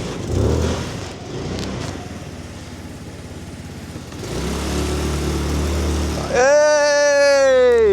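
A Chinese Mustang scooter under throttle-sensor repair runs on a snowy road, its small engine droning and surging as it moves, then rising into a sharp revving whine near the end, close and fairly loud.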